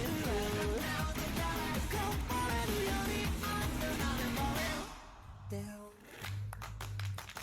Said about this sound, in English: I love hand claps.